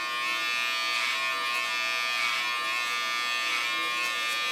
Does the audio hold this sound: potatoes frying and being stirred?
no